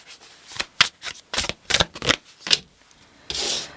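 Tarot cards being shuffled close up in a quiet room, a series of quick riffling bursts and snaps in uneven rhythm, ending with a longer soft riffle, with no speech.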